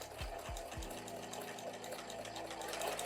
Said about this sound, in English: we're sewing everything here on our blocks with a 1/4 inch seam